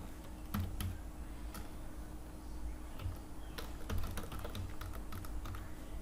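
Rapid keystrokes on a computer keyboard, a quiet run of irregular clicks with a few louder taps, close by over faint room hum and no speech.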